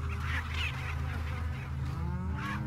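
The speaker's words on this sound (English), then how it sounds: "I think the chicken was trying to kill itself." A chicken in the video game Resident Evil 4 gives honking, clucking fowl calls over a constant low game backdrop, fairly loud and repeated across the stretch.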